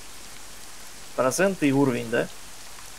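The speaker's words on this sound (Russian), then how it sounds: "Ну, из-за дождя" Steady rain hiss in the video game ArmA 3, a faint, even wash that runs through the whole clip beneath a short burst of spoken words.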